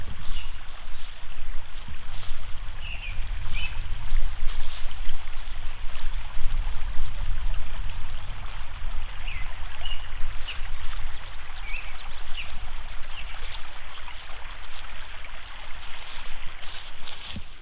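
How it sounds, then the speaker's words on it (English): Gentle river water flowing steadily beside a hiking trail at a campground, a soft continuous wash with faint wind and outdoor ambience, no talk. "A little bit of water moving on this river."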